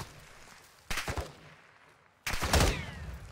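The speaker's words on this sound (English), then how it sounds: "Oh, I'm getting shot at." Gunfire in the video game Warzone 2.0 arrives as two loud, abrupt bursts about a second and a half apart, each a short crackling volley that fades into a low background hum, with no talking.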